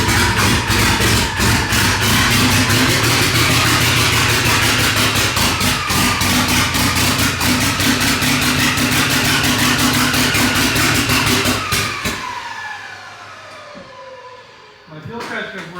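A built Mitsubishi Evo 9 engine with a new turbo setup idles loudly and close on its first start, a rough, lumpy steady drone with a faint whine, then it shuts off near the end, leaving a quiet tail.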